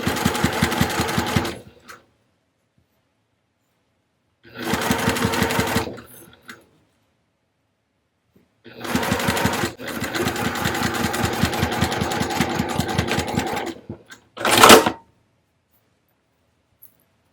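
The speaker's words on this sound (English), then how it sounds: "you're going to stitch all the way across there" Sewing machine stitching a zipper across fabric for a small zip-around wallet, with several bursts of rapid, steady needle chatter separated by silent pauses, close and clear, and no talking.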